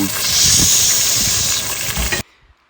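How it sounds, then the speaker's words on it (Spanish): Onions for a sofrito sizzle hard in hot oil in a pot, a loud, dense, steady hiss that holds for about two seconds and then cuts off abruptly into near silence. "aceite en la olla y vamos con nuestro refrito de cebolla y escucha tu"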